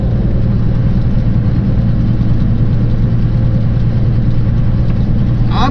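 A truck pulling a stepdeck trailer runs steadily as it pulls in, with a loud, close, continuous low engine drone and no speech.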